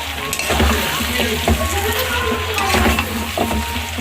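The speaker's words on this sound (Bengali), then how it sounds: "আমি তো চিকেনটা প্রায় কষিয়ে নিয়েছি হয়ে গেছে এটা দিয়ে আর একটু নেড়ে কষিয়ে নেব" Chicken sautéing in a pan in a village home kitchen, a continuous dense sizzle with scraping stir strokes throughout, close and fairly loud, no talk.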